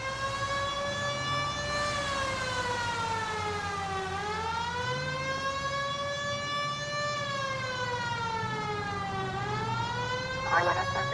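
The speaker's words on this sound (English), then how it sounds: "Turn on the siren and pull her over." Police siren wailing inside the video game L.A. Noire, a loud, steady rising and falling tone that runs continuously, with a brief knock near the end.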